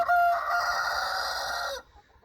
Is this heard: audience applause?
no